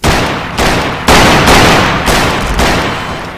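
Gunfire in a video game comes as a series of heavy, booming shots, about five or six spaced roughly half a second apart, each decaying slowly, loud and close with no voices.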